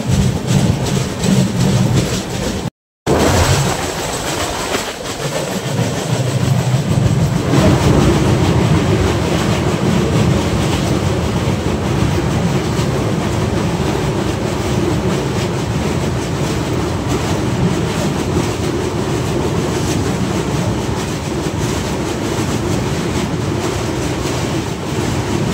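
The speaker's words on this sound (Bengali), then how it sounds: "ধনুকের ভেসে চলছে ট্রেন" The Garib Rath Express running on tracks near Malda, heard as a loud, steady rumble and rattle of the rolling train with a sudden jolt early on, continuing without talk.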